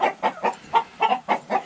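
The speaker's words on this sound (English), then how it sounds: "A bunch of different kinds of hens." Hens of various breeds cluck in a coop in a quick, steady series of about seven short calls, close by and fairly clear.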